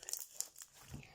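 Clicking slime is played with, giving a few quick, soft, close clicks and crinkles within a brief moment, with a voice present.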